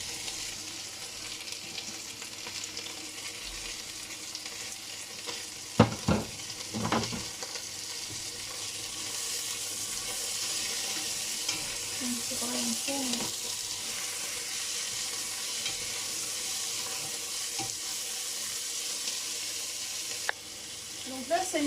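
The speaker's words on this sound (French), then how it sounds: "comme ça commence à griller un petit peu, mais à peine, hein, on va mettre les poivrons" Peppers frying in a pan with onions that are just starting to brown, giving a steady sizzle throughout, with a few clanks of stirring near the start and soft scraping later.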